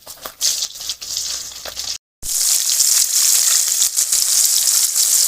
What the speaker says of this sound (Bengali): দেখো বন্ধুরা, মাছটা ছেড়ে দিলাম ভাজা।